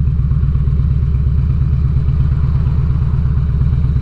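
Low, steady rumble of a 2006 Harley-Davidson Ultra Classic V-twin, about 1450 cc, while riding, a continuous drone with fine chugging pulses at an even level throughout.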